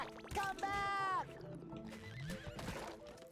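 A unicorn in the SpongeBob SquarePants: The Cosmic Shake video game gives a loud, high whinny, then softer galloping hoofbeats and other game effects follow.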